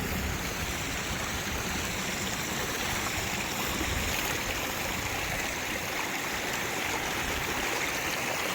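A stream rushes steadily and continuously near Seltun hot springs in Iceland, a dense broadband wash of flowing water close by with no voices.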